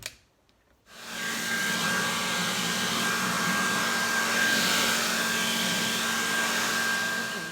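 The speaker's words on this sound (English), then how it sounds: "I want to try for the first time to use a hair dryer" A hair dryer starts up after a quiet moment and blows in a steady, loud, continuous whirr with a faint tonal whine, running close and unbroken to the end.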